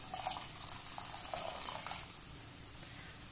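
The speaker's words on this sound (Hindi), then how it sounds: "1/4 ग्लास पानी हम अब डाल देते हैं।" About a quarter glass of water is poured into a pressure cooker with onions for egg biryani, a soft splashing trickle that fades after two seconds into quiet.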